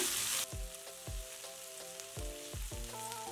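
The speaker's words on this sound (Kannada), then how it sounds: "ಕರಿಬೇವು 1-2-3 ಎಸಳು, 1 ಹಿಡಿ ಪುದೀನ ಚೆನ್ನಾಗಿ ಬೇಯಿಸ್ಕೊಂಡು ಬಿಡೋಣ" Curry leaves and a handful of mint frying in a pan for a tomato-onion chutney, with a loud steady sizzle broken by rhythmic scraping strokes of a spoon, heard up close.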